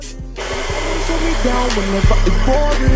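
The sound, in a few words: blow dryer drying hair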